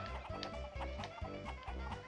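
Chickens cluck in quick repeated bursts in the video game Shrek 2, a steady near clucking rhythm that carries on without a pause.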